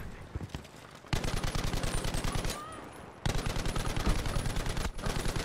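An M1919A6 Browning machine gun fires in Battlefield V during a War in the Pacific match, first in short bursts, then two long sustained rapid strings of loud shots separated by a brief pause.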